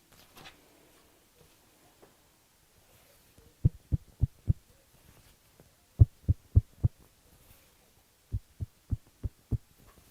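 Stretched red fabric is tugged and plucked, giving soft, low, thudding taps in quick bursts of four or five, three runs in all, fairly faint and close, with no voices.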